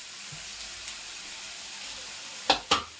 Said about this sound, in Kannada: ಇದೆಲ್ಲ ಒಂದು ಸ್ವಲ್ಪ ಚೆನ್ನಾಗಿ ಫ್ರೈ ಆಗಬೇಕು